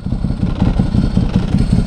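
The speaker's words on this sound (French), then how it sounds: "Et puis le bruit de l'embrayage." A Ducati 1100 Hypermotard Evo idles up close, its dry clutch rattling rhythmically through the low engine throb, steady and loud.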